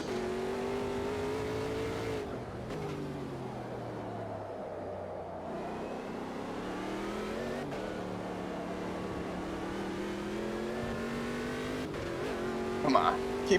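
A Ginetta G58 prototype race car in a racing video game laps the Nurburgring, its engine howling and shifting pitch through gear changes, with a brief tyre squeal near the end and a voice talking over it.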